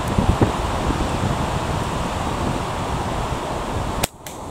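Wind gusting across an outdoor clay shooting course, a steady broadband rush with a band flapping in it and a couple of faint early ticks, then a sudden sharp click near the end as the noise drops.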